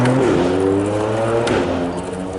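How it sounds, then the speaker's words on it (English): A passing vehicle's exhaust roars loudly nearby, with a steady engine drone that rises and shifts in pitch as it goes by, heard alone without talk. "That weren't me swearing, that was actually someone's exhaust."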